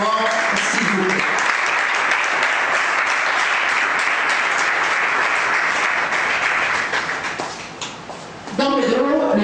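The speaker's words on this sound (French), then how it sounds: "sous vos applaudissements, s'il vous plaît" A conference audience applauding to welcome a Spanish sales director onto the stage, a dense, sustained wash of clapping that fades briefly before a voice starts speaking at the end.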